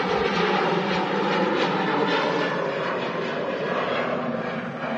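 Business jet at Manchester Airport, its engines giving a steady, loud whooshing roar that holds constant throughout without rising or falling, heard alone with no voices.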